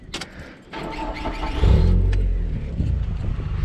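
A 5S-FE 2.2-litre car engine starts up and revs through a new 2.5-inch exhaust with a pair of mufflers, a deep, loud, close rumble that swells after the start and holds a steady throaty drone.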